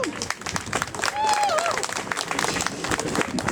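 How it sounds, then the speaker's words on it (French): Applause at an outdoor protest rally against electroshock treatment, scattered clapping from a modest crowd, moderately loud, with a brief whistle or squeal and some voices mixed in. "Une bonne main d'applaudissements pour ça"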